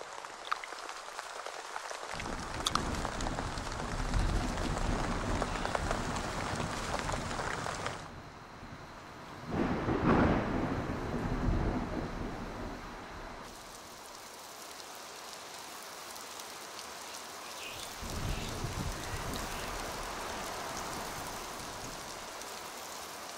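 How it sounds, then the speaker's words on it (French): Steady rain hisses throughout in an African jungle, swelling and easing in intensity, with occasional heavier patches of falling water and no voices. "Pour l'heure, il pleut."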